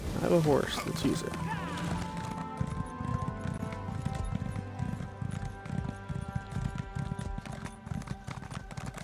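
A horse's hooves clip-clop steadily in The Elder Scrolls Online, a brisk, even rhythm of hoofbeats running beneath game music and ambience after a brief opening flurry.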